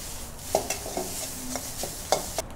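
Mustard seeds spluttering in hot coconut oil in a Kerala kitchen, a run of sharp, irregular pops and crackles over a low, soft sizzle, close and fairly quiet, with no talking.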